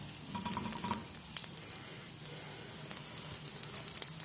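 A bun being heated and turned in oil in a pan for a Pakistani bun kabab burger, soft sizzling with light scraping and stirring clicks, faint and close.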